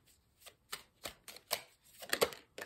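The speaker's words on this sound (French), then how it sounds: "là je vais prendre simplement 3 cartes de l'oracle G" Oracle cards are drawn and shuffled by hand in close, crisp bursts of riffling and flicking, about eight quick papery strokes in a loose rhythm.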